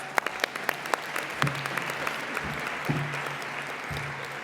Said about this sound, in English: Let's please give her a big round of applause.